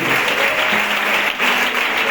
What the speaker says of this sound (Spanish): El mejor aplauso que tengas.